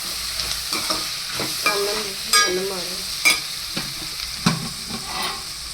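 Onions frying in a pan for a spicy chicken curry, with a steady sizzle and several sharp scrapes and clinks of a stirring spoon at irregular intervals, close up.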